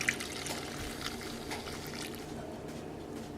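Hot water poured into a container while mixing soda lotion, a continuous moderate splashing and trickling stream heard close up without talk.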